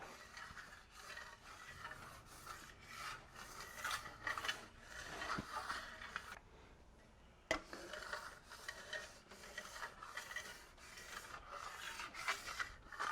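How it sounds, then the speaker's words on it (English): A steel trowel blade makes repeated dry rasping, rubbing passes over dry Venetian plaster, burnishing it to a polished stone finish; close and steady strokes with a brief pause midway, no talk. "I'll give it a few more passes with my blade now that it's dry"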